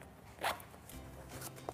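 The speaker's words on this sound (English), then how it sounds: "remove the padding by unzipping the zipper" A zipper is pulled open on the padded fabric seat cover of a baby walker, giving a quiet rasping zip in short strokes, close up with no talk.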